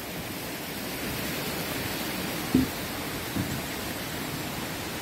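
Tad Sae waterfall near Luang Prabang, Laos, gives off a steady broadband rush of falling water, even and unbroken, with a couple of faint brief knocks partway through.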